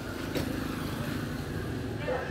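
A used Japanese lawn mower engine fires and runs at a low, uneven putter. It is fairly faint, with people talking over it.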